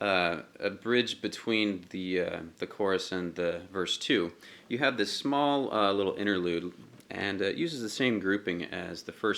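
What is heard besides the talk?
No everyday noise stands out behind the speech.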